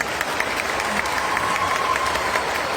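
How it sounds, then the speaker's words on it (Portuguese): Audience at a talk claps for the Oriximiná municipal government team, a sustained, even roar of applause from a large crowd, dense and fairly close, continuing without a break. "Uma salva de palmas para o governo da transformação"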